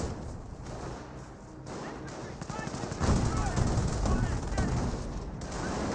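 Battle sounds in the Company of Heroes video game, with a British 25-pounder artillery piece firing amid rattling machine-gun bursts and explosions, the gunfire swelling louder and denser midway through.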